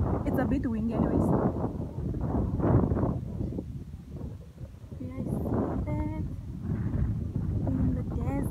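Desert wind near Swakopmund, Namibia, buffets the microphone in low rumbling gusts while people talk over it.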